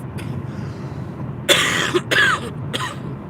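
Person coughing inside a car while driving, an unproductive cough from a lingering illness: a few sharp, loud bursts close by over a low engine hum, with a faint throat noise just before them.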